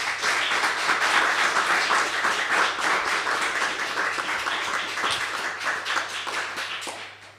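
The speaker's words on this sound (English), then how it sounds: "I would certainly wish that we could all perhaps give them a round of applause" An audience applauds after a public book launch and discussion, a steady wash of many hands clapping at moderate distance, sustained for about seven seconds before fading.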